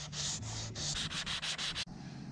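Continuous rough sanding strokes on a school bus body in rhythmic passes, loud and close, with a steady low hum beneath, stopping abruptly near the end.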